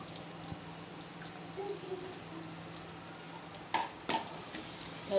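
Garlic-ginger paste with tomatoes frying in a pan for a prawn biryani, a low steady sizzle broken by a few soft stirring scrapes and two sharper clinks of the spoon against the pan.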